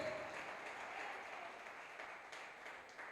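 A church congregation applauds in a steady, dense wash of clapping that holds for several seconds at moderate distance, with no voices over it.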